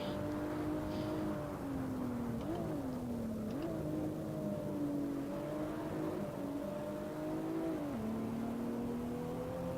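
A BMW 1M Stage 3 racing around the Barcelona circuit in the Assetto Corsa sim: a steady, droning engine note held at high revs, with several quick gear-shift dips and rises over ten seconds and no voices.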